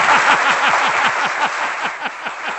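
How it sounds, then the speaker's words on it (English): Applause crackling from an audience on a sports talk radio show, short and fairly loud, with a rhythmic low thumping underneath throughout. "That deserves a roaring round of applause"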